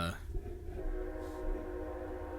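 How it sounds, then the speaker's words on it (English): A train passes near a house in Bound Brook, New Jersey, giving a steady low rumble with a sustained horn-like tone throughout, heard from indoors with no talk. "You hear the train? I live near a fucking train."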